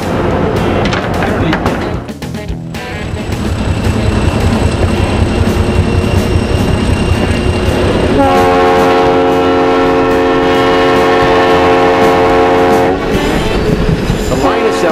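A loud Tioga Central Railroad train rumbles and clacks along the rails, its horn sounding in long sustained blasts over the steady rolling noise.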